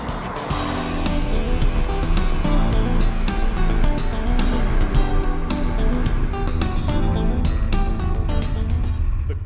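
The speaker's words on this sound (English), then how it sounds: "We test drove the 540i with a sizeable 3-liter engine." A BMW 540i with a 3-liter engine drives along at speed, giving a loud, continuous roar of engine and road noise with no pauses.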